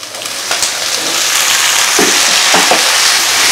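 Tomatoes drop into onions already fried golden for fish curry, and a loud, continuous sizzle rises and holds steady, with a few soft knocks near the end.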